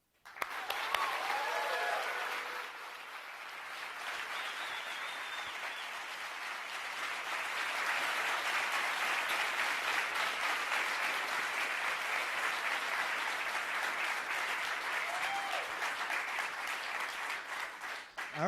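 Audience applause welcoming panelists at a Clemson free speech event, a sustained wash of many hands clapping that builds after a brief dip and holds steady for most of the stretch, with faint voices at the start.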